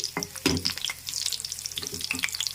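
Garlic frying in a pan for vakkaya pachadi, a short close sizzle with a few sharp crackles and stirring scrapes, no talking.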